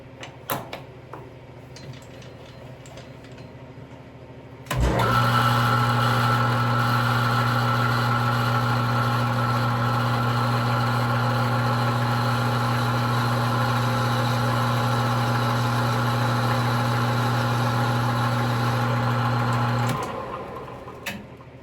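Metal lathe spinning up after a few seconds of quiet clicks and running steadily with a strong even hum and whine while taking a cut on a billiard pool cue, then winding down near the end.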